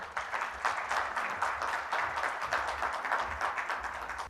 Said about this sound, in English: Please welcome sir with a huge round of applause,